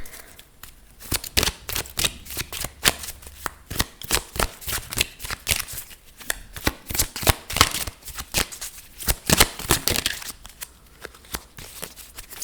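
Tarot-style timing and action cards being shuffled close up, a dense run of crisp riffling snaps and flutters that comes in bursts across the whole stretch, with no talking.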